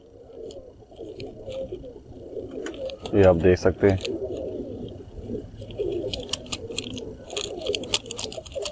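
Pigeons coo softly in the background while someone talks nearby, with a louder burst of cooing and light rustling partway through.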